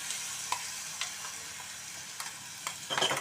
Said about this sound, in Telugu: ఇప్పుడు మనము మిక్సీ పట్టుకున్న ఈ ఉల్లికారాన్ని దీంట్లో అయితే వేసేస్తున్నామండి.